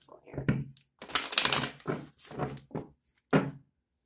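Tarot cards are shuffled in quick riffling bursts, several short rustling snaps close up, separated by brief pauses.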